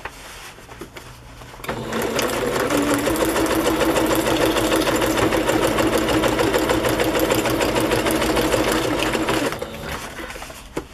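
A sewing machine stitches through paper journal pages, running in one steady, loud mechanical whir for about eight seconds after a quiet start, then stopping.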